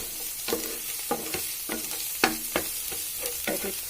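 Turmeric and coriander powder fry in a pan for a bottle gourd kofta curry, a soft sizzle broken by repeated scraping stirs of a spoon at roughly half-second intervals, fairly quiet and close, no talking.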